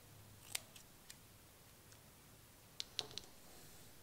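Small scissors from a Daiso shop snip through a piece of fabric in a quiet craft room: a few faint, sharp clicks, spaced irregularly, with a quick cluster of cuts near the end.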